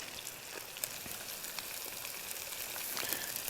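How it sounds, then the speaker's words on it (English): Onions tossed into a hot frying pan at a truck camp stove give a steady, close crackling sizzle with scattered pops, running evenly throughout with no talking. "I'm going to go ahead and throw these onions in here now."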